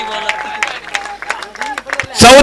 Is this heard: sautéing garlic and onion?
no